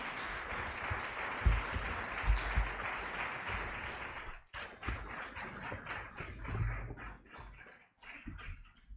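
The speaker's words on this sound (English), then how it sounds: "A round of applause, please, for Steve." A lecture audience claps steadily in a dense wash of applause for an honoree, briefly dipping midway, then continuing in more scattered claps toward the end.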